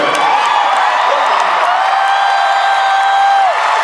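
A large crowd at an Obama rally in Seattle cheers and whoops in a loud sustained roar, with high shouts and whistles rising above the mass of voices.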